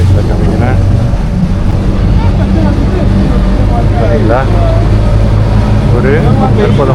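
Steady, loud engine rumble and wind buffeting aboard an RTA water taxi on Dubai Creek, continuous throughout, with faint voices talking over it.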